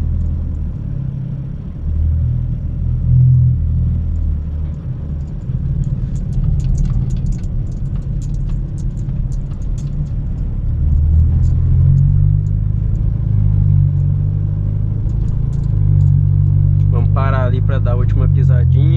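A 2016 BMW 320i Sport with a 2.0 engine and Stage 2 tune, heard from inside while driving: a steady low engine drone and road rumble that rises toward the end, with people talking over it.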